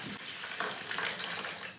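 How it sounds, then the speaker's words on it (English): Chilled bottled spring water, about 190 grams, pours into a bowl for sourdough dough, a steady close splashing stream with no talking. "So we're going to use 189 grams of water,"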